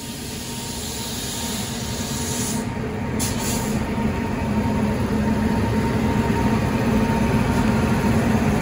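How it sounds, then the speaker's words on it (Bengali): A train passes on the neighbouring track of an Indian railway line, a loud, steady rushing rumble that swells over the first few seconds and then holds, with no talking. "না, অন্য লাইন দিয়ে ট্রেন পাস করছে।"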